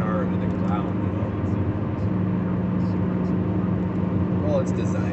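A car with bad bearings cruises along a road at highway speed, giving a constant loud droning road and engine roar with a steady low hum throughout.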